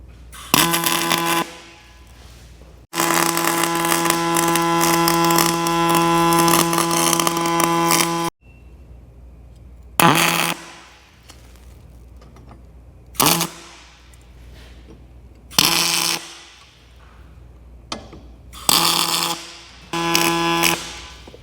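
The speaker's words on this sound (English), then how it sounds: "So I'm gonna get to tacking." MIG tack welds on DOM tubing for a coil retainer, a harsh steady buzzing crackle in several bursts, one long run of about five seconds followed by shorter tacks with quiet pauses between.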